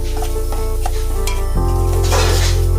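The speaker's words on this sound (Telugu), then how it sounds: "రెండు టీ స్పూన్లు కారం వేసుకొని మళ్ళీ బాగా కలుపుకుంటున్నాం." Two teaspoons of chili powder are stirred into a small-fish curry frying in a pan. The loud, steady sizzle is broken by scraping stirs, with no talking.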